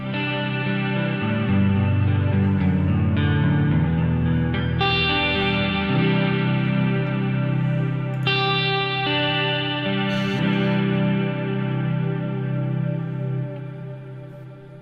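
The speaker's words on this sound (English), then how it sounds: "Create standard effects chains like an overdrive into a chorus, delay, or reverb." A sustained electric guitar-like tone runs through a multi-effect unit chaining overdrive, chorus, delay and reverb, with distortion, shimmering chorus and echo trails; loud and continuous, with a few changes in texture.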